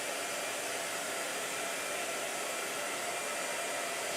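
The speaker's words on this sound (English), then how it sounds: "Well, I guess we're blow drying again." A blow dryer runs continuously at steady strength, drying a small painting, its loud even whoosh held close throughout with no voices.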